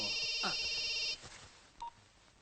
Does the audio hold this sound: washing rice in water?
no